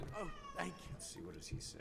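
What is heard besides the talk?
pet cat meowing in background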